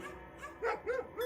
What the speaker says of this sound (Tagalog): hardin ay may 5 malalaking aso at tinatahulan ng mga yun si Luis.